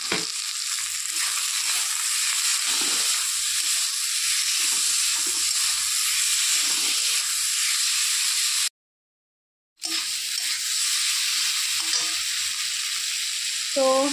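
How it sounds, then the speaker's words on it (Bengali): Chili powder and pre-fried potatoes sizzling in a pan for a Bengali fish curry, a steady loud frying hiss throughout with stirring, broken by a brief second of silence. "সামান্য লঙ্কা গুঁড়ো, এরপর ভেজে রাখা আলুগুলো দিয়ে দিচ্ছি।"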